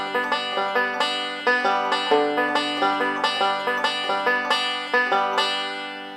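Banjo picking a two-measure roll, with bright plucked notes in a quick, evenly flowing rolling pattern that repeats with regular accents, close and clear with no voices.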